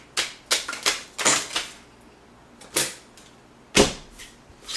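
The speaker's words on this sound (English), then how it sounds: "Now, just a quick shuffle here." Playing cards are given a quick shuffle before a Texas Hold'em game, heard as a series of sharp, separate snapping riffles and slaps, close and fairly loud, with short gaps between bursts and no speech.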